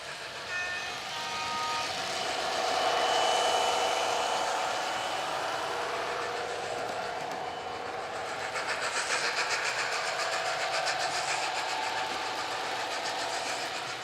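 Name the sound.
TT:120 model trains running on a layout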